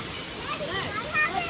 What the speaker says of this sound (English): Look at that hail.